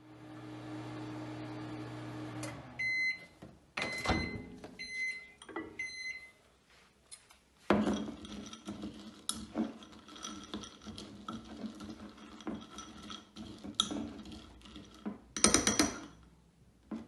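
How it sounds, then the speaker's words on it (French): A microwave oven runs while melting chocolate for homemade Reese's cups: a door clicks and beeps sound, then a low whirring hum with clunks and rattles, ending in a cluster of sharp electronic beeps. "je vais aller mettre ça au micro-ondes"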